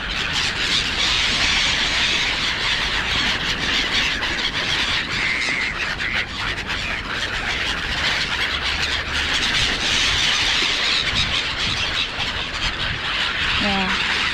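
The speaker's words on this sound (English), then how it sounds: "And the gulls are here." Black-headed gulls call loudly in a dense, continuous chorus of shrill squeals and squawks, close and overlapping on a miserable day, with no talk.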